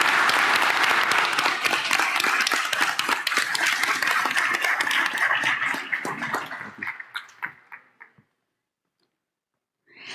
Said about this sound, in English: a big round of applause for the panel